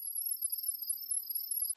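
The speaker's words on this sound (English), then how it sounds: "You will now hear your smart device make a loud chirping noise" An IMOU Ranger 2 camera's setup pairing chirp, a steady, high, shrill electronic tone that holds for under two seconds and then cuts off abruptly, with nothing else around it.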